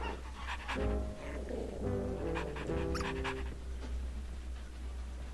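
Dogs pant in quick rhythmic breaths with small whimpering tones, close and fairly quiet, inside a Wallace and Gromit video game.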